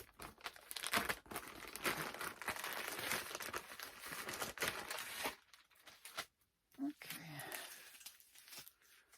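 Packing tape being torn and a cardboard package crinkled open during an unboxing, crackly rustling close by and continuous with a few brief pauses, with a person talking over it.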